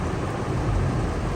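Heavy rain with rumbling thunder, heard from a car pulled over at the roadside during a sudden downpour; a dense, steady roar of rain and a low rumble run through the whole stretch with no voices.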